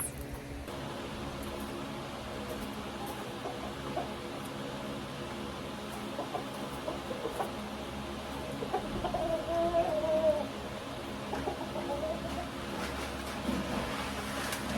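Chickens in a coop run cluck softly and intermittently in the distance over a steady outdoor background hiss.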